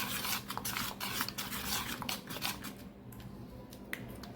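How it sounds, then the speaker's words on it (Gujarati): Cucumber is stirred into yogurt for a cold salad, giving soft wet scrapes and faint spoon clicks against the bowl, quiet and repeated. "હવે આપણે કાકડીને સરસ મિક્સ કરી દેવાની છે।"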